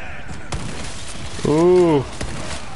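Shotgun blasts in a video game: a sharp shot, then a second blast followed by a brief tonal ringing sound, and a final faint report, loud and close.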